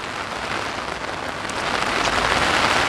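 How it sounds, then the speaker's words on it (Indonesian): Heavy rain drums steadily on an umbrella during a days-long downpour in Korea, a dense continuous patter that swells slightly louder toward the end, with no voices. "Hujannya deras banget."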